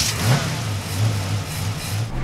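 A car engine runs steadily inside the vehicle with a low droning hum, mild rises in revs, and no voices.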